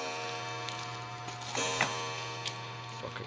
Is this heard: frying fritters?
no